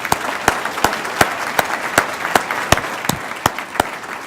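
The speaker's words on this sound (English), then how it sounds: "I just want to have another round of applause for Matt Eversmann" Audience applause honoring Matt Eversmann at a leadership talk, heard as a steady wash of clapping with sharp, regularly spaced louder claps punctuating it throughout.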